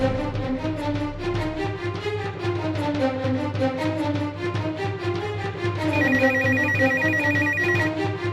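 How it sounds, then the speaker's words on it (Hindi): A telephone ringtone rings steadily for several seconds in a Hindi crime drama scene, playing a repeating melodic tune that is loud and close, with no one speaking over it. "बेटा देखो किसका फोन है।"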